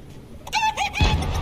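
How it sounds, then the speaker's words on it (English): A chicken in the Fortnite video game clucks a few times, close and moderately loud, with low game ambience rumbling underneath. "Oh, there's a chicken there."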